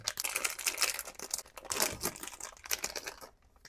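Crinkly plastic packaging on a Pop Mart Labubu blind box is peeled and torn open up close, a dense continuous rustle and crackle that fades out at the end, with no talking.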